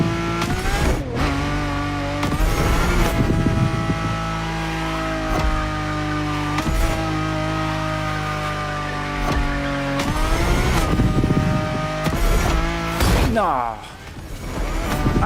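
A car engine in The Crew Motorfest racing game roars at high revs through a corner, sustained and loud with pitch rising and falling through gear changes and a tire squeal near the end, while someone talks over it.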